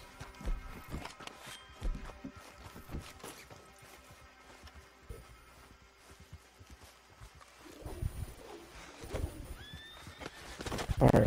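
A horse in the video game Red Dead Redemption 2 whinnies and neighs while its hooves clip-clop and tack rattles nearby, building to louder activity toward the end.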